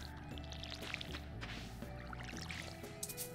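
Watering crops with a watering can in Stardew Valley, a soft steady pouring trickle with faint drips, running continuously over a layer of tonal game music.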